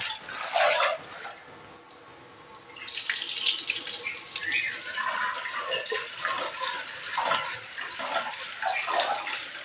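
Water pours from a kitchen tap in a home kitchen, a close, splashing rush that starts, briefly eases, then runs on steadily to the end.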